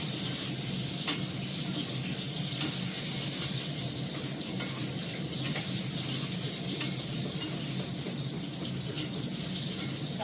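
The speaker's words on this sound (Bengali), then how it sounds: "কড়াতে দিয়ে দিয়েছি সর্ষের তেল, আমরা আলুটা ভাজবো ভালো করে।" Potatoes frying in mustard oil in a wok, a steady dense sizzle running throughout with faint scraping stir clicks, fairly close and without any talk.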